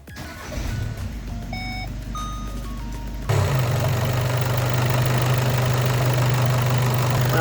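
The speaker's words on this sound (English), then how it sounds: "And now I will warm up engine without bleeding coolant system" A VW 2.0 TDI EA288 diesel engine idles while warming up, its low steady rumble cutting in abruptly partway through and running on evenly, after a stretch of quiet electronic beeps and tones.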